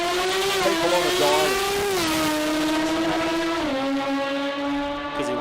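A Mazda 13B rotary-engined drag car screams down the strip at an Australian sports compact drag meet, its loud high-pitched buzzing note climbing steadily with two quick dips at gear changes, continuous and close.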